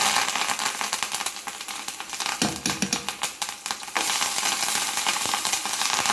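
Curry leaves crackle and sizzle loudly in hot tempering oil with asafoetida, with the gas turned off; a steady dense hiss breaks into sharp popping bursts midway, then returns to a continuous roar.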